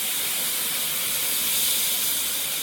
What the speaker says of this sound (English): Then we're gonna go right in with our stock.